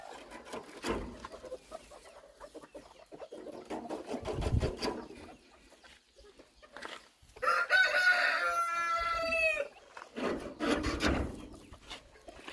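Chickens at an outdoor coop on a hot day make scattered clucks and rustling, then one loud, close rooster crow rings out for about two seconds before the birds settle into rustling again.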